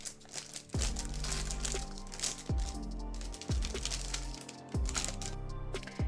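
Plastic wrapping being pulled off a Gamakay MK61 mini keyboard, a series of close crinkling and crackling bursts with short pauses between them.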